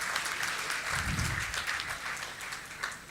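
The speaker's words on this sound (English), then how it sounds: "please give a huge round of applause to Mr. Khan" Audience applause for Shah Rukh Khan at a memorial award ceremony, a sustained wash of clapping from a large crowd that holds steady for a few seconds without voices.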